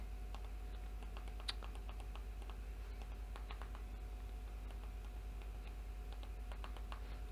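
Fingers tap out a Wi-Fi password during a Foxtel iQ4 setup, a quiet run of light, irregular key clicks over a steady low hum, with no voices.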